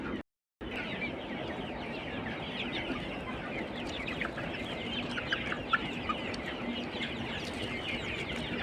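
A dense flock of 42-day-old colour bird chickens on a farm of 1200 birds clucks and chatters steadily, a continuous wash of many overlapping calls with no talking.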